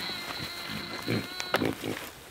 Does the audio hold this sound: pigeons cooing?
no